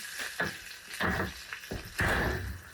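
Cajun chicken sizzles and crackles in a hot pan, with several scraping, clattering bursts as pieces are moved around, close up.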